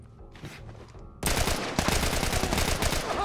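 Rapid gunfire in The Last of Us Part II, opening with quieter scattered shots, then a dense, loud fusillade from about 1.2 seconds that keeps going to the end.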